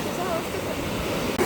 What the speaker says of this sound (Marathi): नुसत्याच लाटा येतं असं आहे